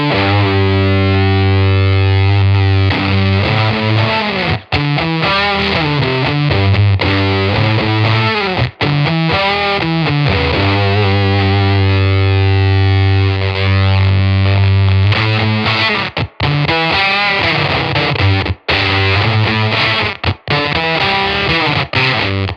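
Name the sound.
guitar through Fairfield Circuitry 20% More slew limiting distortion pedal, gain cranked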